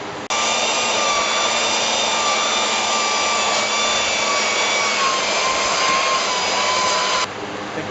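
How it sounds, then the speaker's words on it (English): A belt sander fitted with a 40-grit belt grinds across a wooden workpiece, a steady, loud, continuous whine with a rough abrasive hiss that starts abruptly and runs unbroken for about seven seconds before cutting off. "So I'm just going to sand it with the belt sander."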